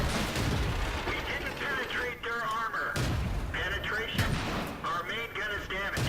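Tank shells striking a tank's gun mantlet in World of Tanks, a T-150 taking repeated heavy hits that land as sharp booming impacts at a few intervals, mixed with rumbling engine noise and clanging metal.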